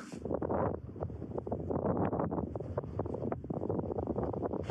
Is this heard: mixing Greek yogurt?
no